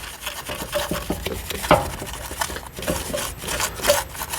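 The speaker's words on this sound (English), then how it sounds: "We're basically just scrubbing the inside of the actual caliper" Scrubbing inside the brake caliper of a C7 Audi 3.0T while cleaning the piston area during a rear brake job, heard as a steady, close rhythmic rubbing and rasping, strokes repeating back and forth with brief scratchy accents.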